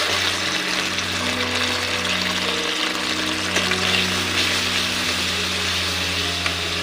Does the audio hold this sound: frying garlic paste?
yes